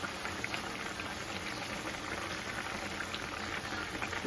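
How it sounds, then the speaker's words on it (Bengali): Ridge gourd broth boils steadily as lentil dumpling batter is dropped in, a dense continuous bubbling and gurgling that stays close and even from start to finish, with no voices. "এই যে ঝোলটা ফুটে গেছে"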